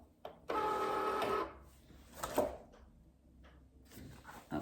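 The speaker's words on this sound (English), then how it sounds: "the Cricut machine, it's fast. It doesn't take long to cut at all." A Cricut cutting machine running through a cut, giving a loud, steady whirring burst of motor and blade noise for about a second, then quieter clicks and shuffling sounds as the carriage moves.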